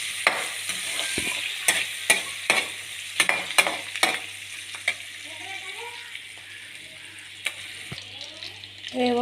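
Curry leaves sizzle in hot oil in a pan with salt and green chilies, under steady frying hiss. A spoon clinks and scrapes against the pan in a rhythmic run of stirring taps that slows and thins out.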